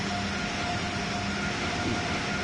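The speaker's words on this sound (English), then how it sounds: "That's the power unit firing up, or whatever you want to call it. The noise of the Acela." An Amtrak Acela Express power unit in the video game Train Sim World 3 hums and roars steadily as it fires up, a dense, constant mechanical drone with a faint tonal whine running through it.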